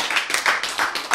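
An audience claps at a Korean church Bible lecture, a brief burst of scattered, uneven hand claps in quick repeated waves, moderately loud with no voice over it.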